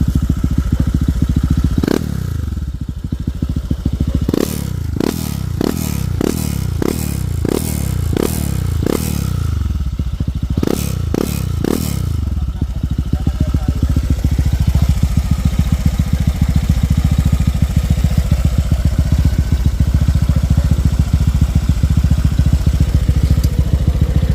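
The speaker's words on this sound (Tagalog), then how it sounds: "Salva, bombay mo nga ulit." A Honda Click/Vario 125 v3 scooter with a dual radiator setup revs repeatedly in short, loud bursts, then settles into a steady, close idle with a rhythmic chug.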